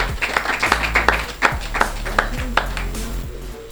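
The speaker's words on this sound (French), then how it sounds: "on peut applaudir pour elle déjà" At a contest, a small audience claps for a young woman contestant: a run of distinct, fairly rhythmic hand claps over a low background hum.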